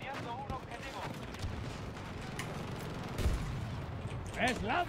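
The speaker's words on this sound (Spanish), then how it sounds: "Buenas explosiones, ¿eh?" Battlefield 2042 match with explosions and gunfire, a constant rumbling barrage of shots and blasts with a heavy boom near the middle, loud and dense, as voices call out over the action.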